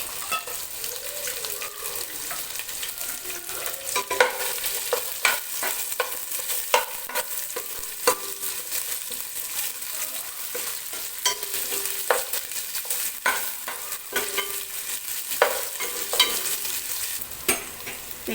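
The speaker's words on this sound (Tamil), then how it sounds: "வெங்காயம் நல்லா வதங்கிடுச்சு" Small shallots fry and sizzle in a pan for Pallipalayam chicken, a steady hiss under frequent scraping stirs of a spoon against the metal, close and continuous.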